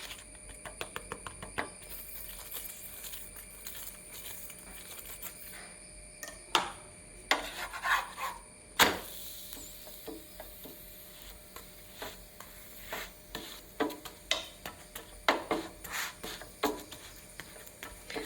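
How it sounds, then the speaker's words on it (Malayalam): Ghee brushed over a hot dal chapati, soft scraping strokes and light sizzling with scattered crackles and taps, close and fairly quiet. "ഇതിൻ്റെ മീതെ കുറച്ച് നെയ്യ് തൂത്ത് കൊടുക്കാം"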